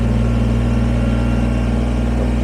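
A Kubota BX23S sub-compact tractor with a front end loader idles steadily while back blading dirt, its diesel engine giving off a constant close, loud drone with an even low hum throughout.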